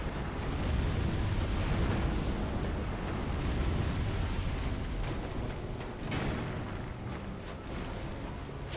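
A fire orb pyromancy spell from Dark Souls 2 goes off in a loud, sustained rumbling blast with crackling bursts, continuous and roaring throughout, with a sharper burst of impact noise near the end.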